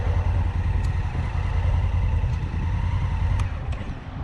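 A motorcycle rumbles along the road nearby, its low engine drone steady and loud throughout, with light clatter and a few faint ticks over the throaty hum.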